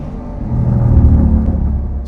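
A Lamborghini in Corsa mode on a race track gives a loud, deep engine roar that swells and holds steady, with no talking.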